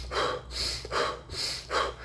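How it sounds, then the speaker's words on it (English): A runner exhales in a steady rhythm timed to the footstrikes: three close, breathy puffs about three-quarters of a second apart, with no talking. "Right foot goes down, I'm breathing out"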